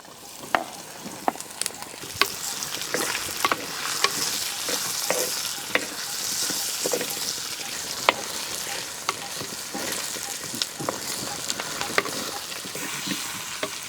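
Brinjal pieces frying in a pan for vangi bath, stirred repeatedly: a steady sizzle broken by sharp, regular clacks of the spoon against the pan, close up, with no talk.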